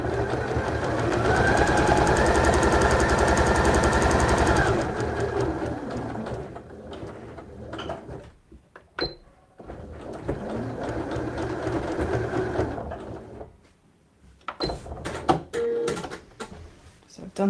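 A sewing machine runs at close range while stitching a fabric pouch, one long steady stretch and then shorter, stop-and-start bursts, with a person talking through much of it.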